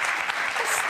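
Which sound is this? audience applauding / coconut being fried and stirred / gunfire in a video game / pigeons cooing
audience applauding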